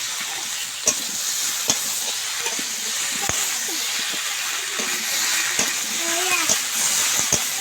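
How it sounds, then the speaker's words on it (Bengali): Steady sizzling and hissing of vegetables frying in a pan with cumin paste and slit green chillies, with scattered clicks and scrapes as they are stirred. "জিরার বাটাটা দিয়ে সবজিগুলো আমি তার সঙ্গে খুব ভালোভাবে বেশ কিছুক্ষণ ধরে নেড়ে নিয়েছি।"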